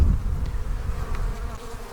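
Honey bees from a newly installed package buzz steadily and close up while being settled into a hive, a dense continuous hum with no talk.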